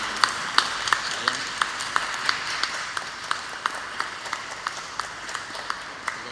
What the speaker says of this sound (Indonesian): Kita beri tepuk tangan yang meriah atas kegembiraan ini.